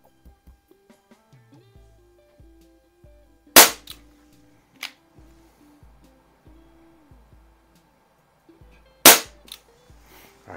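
An Umarex Brodax .44 super magnum CO2 revolver fires BBs in double action, two sharp loud cracks several seconds apart, with softer mechanical clicks of the cylinder and trigger in between.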